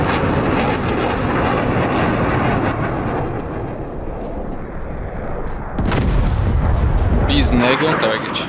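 Bomb explosions and heavy rumble fill the air during an F/A-18 strike on enemy anti-aircraft batteries in the DCS flight simulator, a continuous loud roar with jet engine noise and a fresh blast surge partway through.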